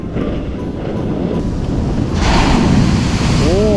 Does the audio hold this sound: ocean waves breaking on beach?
yes